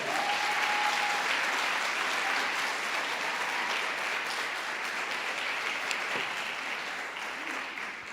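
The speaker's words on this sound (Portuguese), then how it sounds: "Agora você aplaude Jesus com gosto." A church congregation applauds steadily and loudly for about eight seconds, a dense continuous wash of clapping that tapers slightly toward the end.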